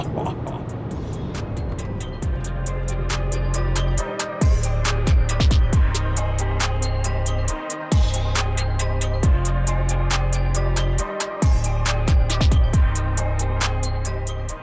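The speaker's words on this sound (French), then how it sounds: "écoutez ça, d'un V8 5 litres 5 biturbo" A Mercedes GLS 63 AMG with a 5.5-litre biturbo V8 revs hard close by, deep rumbling pulses rising through repeated throttle blips with sharp pops and brief gaps between surges.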